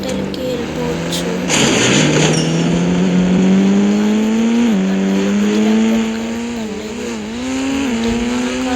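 A car speeds along in a 3D driving video game, its synthetic engine note droning steadily and climbing in pitch, loud and continuous, with a brief crunch early on and a voice talking over it.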